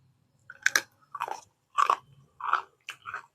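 Crunchy bites of crispy homemade ribbon pakoda, a spiced fried snack made with ground masala, chewed close up in five distinct crunching bursts with short pauses, no talking.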